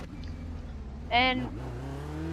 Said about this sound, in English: I'm in basically a Formula 1 car